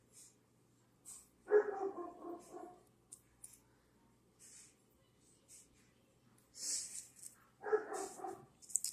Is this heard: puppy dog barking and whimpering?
yes